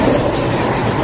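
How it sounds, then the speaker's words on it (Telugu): The Visakhapatnam–Guntur Double Decker passenger train passes close by, a loud, continuous rumble of wheels and carriages that fills the whole moment. "Visakhapatnam Guntur double decker crossing అవుద్ది"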